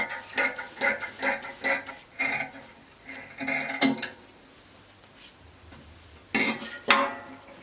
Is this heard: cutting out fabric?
yes